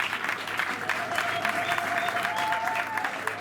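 A crowd applauds at a political party's morning event in Congo, sustained dense clapping with a faint tonal whine underneath.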